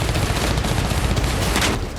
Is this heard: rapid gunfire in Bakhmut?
yes